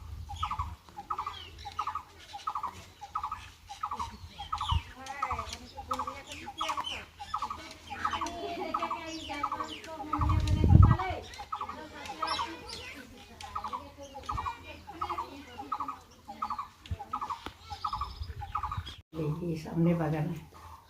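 Birds call in a garden with a steady, repeated short chirping note at a regular rhythm, moderately faint, under other chatter and rustling, with a brief loud thump midway and talking near the end.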